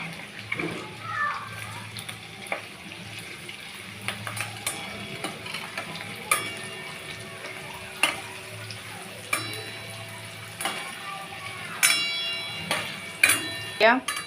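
Paneer chilli stir-fries on a high flame with spring onion, giving a moderate sizzle punctuated by sharp spatula clatters against the pan, while a person talks over it and faint tonal music runs underneath.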